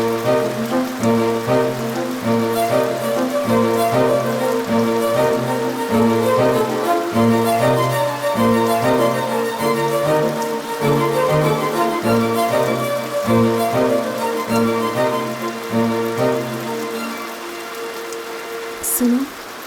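Rain falling in a movie scene, a dense, steady wash of sound throughout with a strong rhythmic tonal layer over it, fading slightly near the end.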